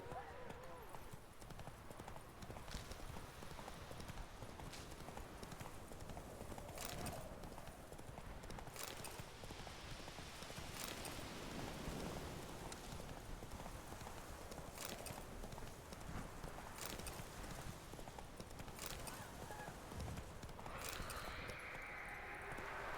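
Roach the horse clip-clops at a steady walking rhythm through The Witcher 3: Wild Hunt, the hooves sitting under constant ambient noise with faint background voices.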